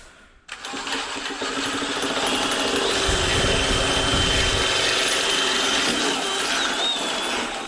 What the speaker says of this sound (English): here, socket wrench is the same thing